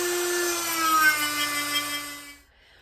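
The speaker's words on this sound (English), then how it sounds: "we actually have to file it down like this. So I'm gonna use the Dremel and trying to get it pretty." A Dremel rotary tool files down solder on a patch over an old copper pot, giving a steady high whine that runs close and loud for about two and a half seconds, then cuts off abruptly.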